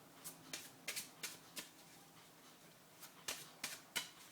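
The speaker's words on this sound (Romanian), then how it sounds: "Aveți nevoie de un pachet de cărți, desigur, amestecați pachetul." A deck of playing cards being shuffled by hand, a run of crisp riffling bursts in two groups separated by a short pause, close and fairly quiet with no talking.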